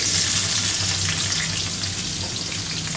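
Beef fries in oil in a pan for a dish with prawns and bottle gourd, giving a loud, continuous close-up sizzle with a faint watery crackle that stays even from start to finish.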